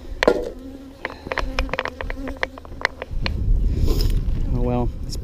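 Honeybees buzz steadily around an open hive during a spring inspection while smoke is applied, with close insect drones weaving under intermittent clatter and handling noise.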